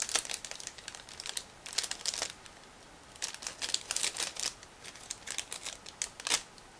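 Plastic packaging of a Miniart 1/35 scale tractor model kit being cut and handled, with crisp crinkling and snipping bursts in irregular clusters, close and fairly quiet.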